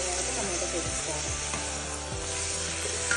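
Tomatoes drop into a pan of frying onions and chilies, and a steady sizzle fills the pan while several low scraping strokes of a spoon sound up close.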